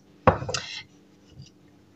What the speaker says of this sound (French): je vais mettre une cuillère à café de curcuma dedans